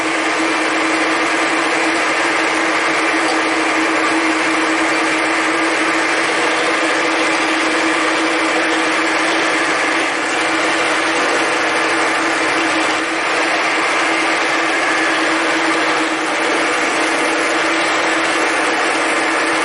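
A steady, loud high-pitched mechanical whine runs without a break, like a power drill boring continuously into metal, drilling holes in the metal parts of a small vise.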